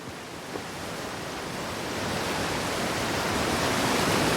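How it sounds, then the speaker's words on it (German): A waterfall in the video game Outer Wilds rushes as a dense, steady roar of white water that swells slightly louder, with no talking over it. "Das heißt, hinterm Wasserfall ist was."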